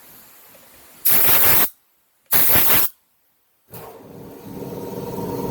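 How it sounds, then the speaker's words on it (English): Two sharp bursts of compressed air hiss loudly across the blades of a Toyota Prius hybrid battery cooling fan, separated by silence, then a large air compressor's lower mechanical hum builds steadily in the background. "That's the sound of my big air compressor making noise."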